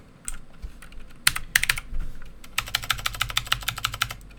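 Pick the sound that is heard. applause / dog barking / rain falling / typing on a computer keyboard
typing on a computer keyboard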